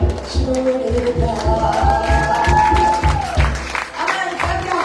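A congregation claps along during a Sunday evening retreat in Margao, steady rhythmic hand claps with crowd noise and a held tone or voice over them throughout.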